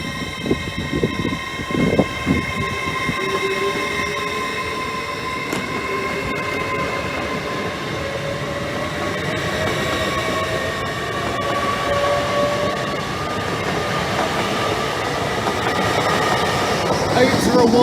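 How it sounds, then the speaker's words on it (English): A delayed LNER express from Edinburgh to London King's Cross passes nearby, a steady loud rumble of rolling wheels with a faint squeal and some whine, sustained throughout without talk. "On the right, the delayed 19:20 LNER service from Edinburgh to London King's Cross."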